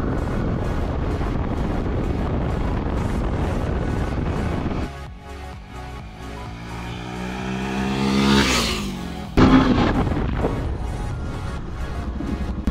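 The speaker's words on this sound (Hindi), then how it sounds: "यहाँ से मैं बाइक स्टार्ट कर रहा हूँ, 3 नंबर गियर तक लगाऊंगा" A Yamaha FZS V3 motorcycle pulls away and accelerates up through the gears to about 70 km/h, its engine note dipping and then rising steadily under heavy wind rush on the microphone, with a sharp change near the end.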